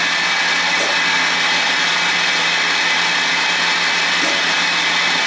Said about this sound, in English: The oil pump is pumping oil.